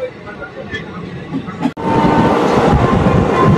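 A train rolls through Berhampore Court station on the Azimganj–Krishnanagar line, a loud, steady rumble of wheels and carriages that swells after a brief dip and continues without a break, with speech heard over it.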